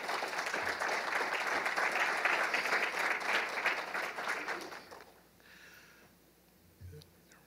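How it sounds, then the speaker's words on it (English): A campus MLK event audience applauds the event coordinators with full, sustained clapping for about five seconds, then it thins and fades out, leaving a quiet room with a faint stray sound near the end. "let's just give a round of applause to everybody that's coordinating events"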